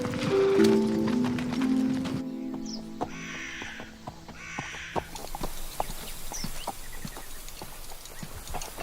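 A horse's hooves clip-clop at an easy steady pace outdoors, with a crow cawing now and then and faint tonal sounds early on; no one speaks.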